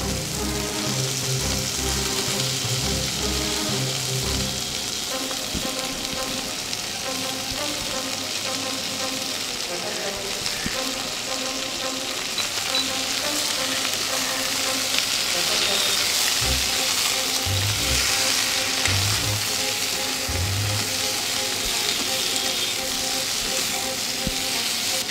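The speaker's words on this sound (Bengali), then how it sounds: "পেঁয়াজ অল্প ভাজা হয়ে গেলে কড়াইয়ে সব সবজি দিয়ে ভালো করে ভেজে নিন" Vegetables and onion fry in a wok for a Bengali fish curry, giving a steady broadband sizzle with occasional stirring scrapes, with background music running throughout.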